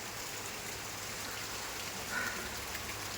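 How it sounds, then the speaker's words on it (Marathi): Steady rain falls in a village during a heavy downpour, a soft, even hiss throughout with a faint brief patter near the end and no voices. "पावसाने बेकार हालत केले सगळ्याचे"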